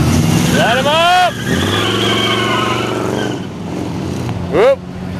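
A 1967 Buick Skylark Grand Sport convertible with a 400 engine revs at an outdoor muscle car show, a loud, close engine roar that rises and falls, with voices and crowd noise mixed in.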